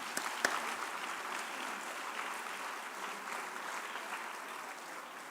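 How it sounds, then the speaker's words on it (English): An audience at a high school academic awards night applauds honored student athletes: a soft, even wash of many hands clapping, a few sharper claps at the start, fading slightly toward the end with no voices. "That's worth a round of applause."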